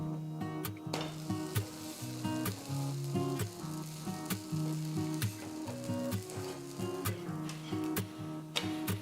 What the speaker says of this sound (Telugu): దోశ ఒకవైపు వేగిన తర్వాత రెండో వైపుకి తిప్పి వేయించాలి